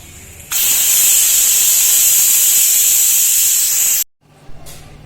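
Pressure cooker whistle on a gas stove, a loud continuous high hiss of steam bursting out for about three and a half seconds, then cutting off abruptly, followed by a faint brief puff.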